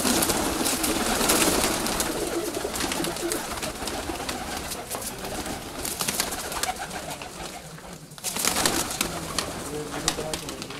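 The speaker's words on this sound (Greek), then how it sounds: "Έχει πολύ καλά περιστέρια." Racing pigeons coo in a loft, dense overlapping throaty calls forming a loud continuous chorus, with a brief voice now and then.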